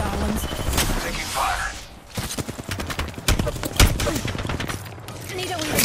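Rapid bursts of gunfire rattle through a close, busy firefight in Apex Legends, with dense repeated shots and impacts cutting in and out over game ambience.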